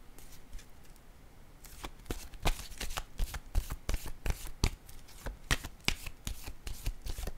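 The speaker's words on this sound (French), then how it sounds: "Je vais déposer une autre carte ici." Tarot cards being shuffled and set down on a surface, a close, steady run of crisp riffling flicks and soft slaps that quickens into a busy rhythmic patter.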